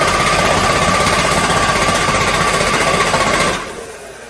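A 2001 Ford F550 with a 7.3 diesel cranks over loudly and steadily in a fast, even rhythmic churn with no voices, then the noise cuts off abruptly near the end.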